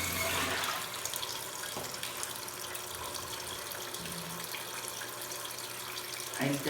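Water pours steadily into a washing machine tub, a continuous close rushing splash that holds for several seconds with a small surge near the end.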